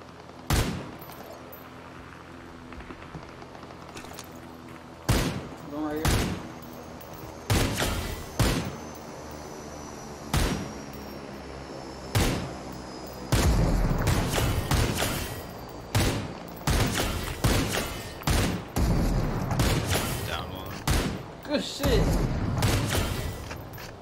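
Rapid gunfire in a video game shootout, with repeated sharp bursts and single shots near and loud throughout, under casual talk between players.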